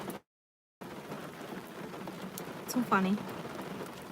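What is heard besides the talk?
rain falling outside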